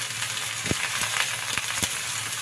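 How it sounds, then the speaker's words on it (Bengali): Moong dal and ridge gourd fry in a pan with a steady, close sizzle, broken by a few sharp crackles and light stirring knocks. "ডালটা ভেজে নিয়ে এর মধ্যে ঝিঙাটা দিয়ে দিলাম"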